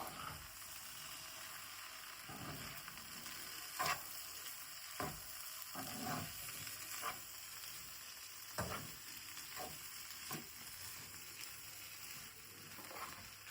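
Beef fries in a pan over a bread and egg mixture, giving a steady soft sizzle with occasional scraping stirs. The sound is close but low in level, and no one talks.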